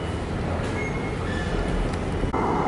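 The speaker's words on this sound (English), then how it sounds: "Got a train coming in here at this set down only platform" A London Underground train arrives at a set-down-only platform at Bank station, a loud continuous roar and rumble of the cars with a faint high squeal and a shift near the end.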